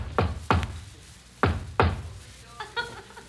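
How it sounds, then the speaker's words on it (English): A secret knock on a door as a radio sound effect: two sharp knocks, a pause, then two more, followed by a couple of fainter, lighter taps, close and distinct. "and remembered the secret knock"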